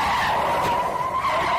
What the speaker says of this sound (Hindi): एक गाड़ी ने उसे टक्कर मार दी